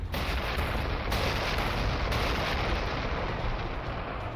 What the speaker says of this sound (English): Firing artillery at that shield generator.